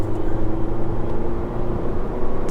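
BMW 316i F30 sedan accelerating hard at full throttle in sport mode, a steady close engine drone with low harmonics holding fairly level throughout, no talking over it.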